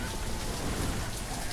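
Continuous rain falls in the village-building game Banished, a dense, even patter and hiss that holds at steady level throughout with no other sounds.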